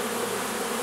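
A dense swarm of honeybees buzzes steadily and close as it enters a Dadant hive, a continuous, even drone of many wings with no voices.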